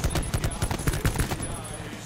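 Rapid automatic gunfire in the Call of Duty Blackout video game, dense bursts of sharp shots repeating for about two seconds, loud and close.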